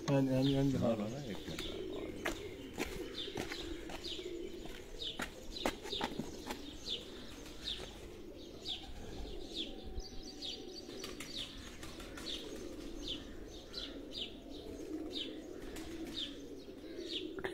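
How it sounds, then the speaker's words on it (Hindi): Domestic pigeons coo softly alongside repeated bird chirps throughout, with some low voices and rustling noise underneath. "ये वो कबूतर हैं दोस्तों"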